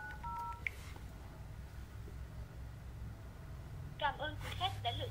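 Keypad dialing tones from an LG V60 smartphone during a call to a carrier's automated service: a pair of short beeps at the start, then a quick run of several tones near the end over faint background noise.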